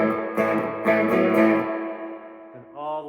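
An Epiphone Korina Flying V electric guitar, a 2002 model, plays through a Fender Blues Jr. III amp with spring reverb: sustained chords ring out and decay with a wet, splashy tail before a new chord starts.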